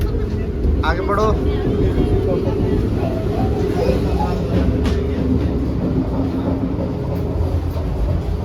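A Vande Bharat express train runs with a loud, continuous low rumble and rolling wheel noise heard from inside the carriage, with faint voices in the background.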